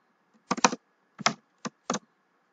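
Keys clatter on a computer keyboard as code is entered, short bursts of close, crisp clicks in four quick clusters separated by brief pauses, with no voice over them.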